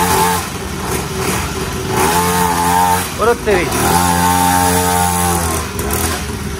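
A toy ride-on motorbike with a 50cc engine and rubber tyres runs loud and close, a steady buzzing drone with a brief rev dip midway, while people talk over it.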